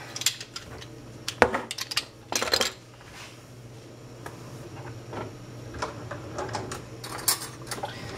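A spoon stirs salt dissolving in hot water in a glass, giving scattered light clinks and ticks against the glass, some sharper taps and short scraping bursts, fairly close, with no talking.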